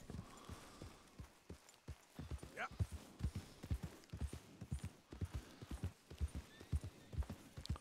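A horse's hooves clip-clop at a steady walking rhythm in the video game Red Dead Redemption 2, quiet and close, with a brief whinny partway through.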